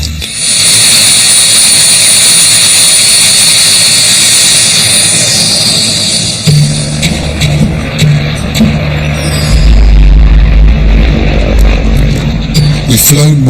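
A small aircraft drones steadily while flying over the Nubian desert north of Khartoum, a loud close engine roar with a high whine that later deepens into a heavier low rumble.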